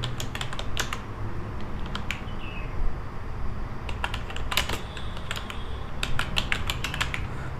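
Keys clatter on a computer keyboard while text goes into an MS Word document, arriving in quick irregular bursts of close, crisp clicks with short pauses between them over a faint room hum.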